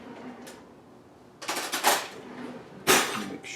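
A fork stirs spiralized cucumbers and radishes in a dish: a few quick clinks and scrapes in short bursts near the middle, then one sharp clatter near the end, with quiet room tone between.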